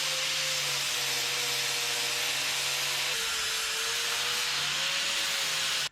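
A grinder working steel on a homemade U-Haul box truck bumper after a cutoff-wheel cut, a continuous harsh whine with a slight pitch drop midway, close and steady until it cuts off abruptly.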